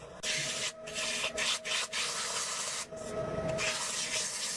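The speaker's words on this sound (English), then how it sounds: "Let's go ahead and switch over to sanding mode." Steady abrasive rubbing of sandpaper on a wooden bowl on a lathe, continuous with a few brief breaks, close up and fairly quiet, with no talking.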